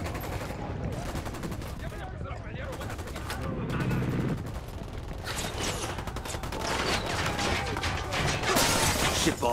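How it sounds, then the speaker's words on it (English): Gunfire in the tactical shooter Ghost Recon Wildlands, with bursts of automatic shots and scattered single reports stretching across the whole stretch over a dense mix of ambient game noise, loud and continuous, while voices talk over it at times. "Open fire."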